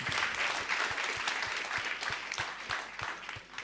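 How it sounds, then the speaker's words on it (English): An audience at a summit gives a speaker a round of applause, a dense, steady patter of many hands clapping at once, fairly soft and continuous throughout. "No, Rafaela, let's give her a round of applause."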